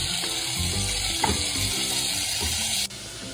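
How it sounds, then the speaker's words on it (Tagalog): Chicken sautéing in a pan with ketchup and soy sauce gives off a steady, close sizzle with scraping stirs and a few clinks, cutting off sharply near the end. "Put ketchup and soy sauce and saute again"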